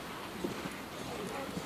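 A horse's hooves clip-clop on the footing of a riding arena during a lesson, soft irregular hoof beats heard close, with faint voices in the background.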